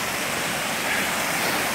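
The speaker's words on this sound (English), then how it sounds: "this is the top of the waterfalls" At the top of the falls on Hornbeck Creek, water cascades in a loud, continuous broadband rush with no breaks and no voices.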